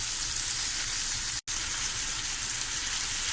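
Liver masala fries on a flat tawa with tomatoes going in, a steady close sizzle and spatter that breaks off for an instant before carrying on.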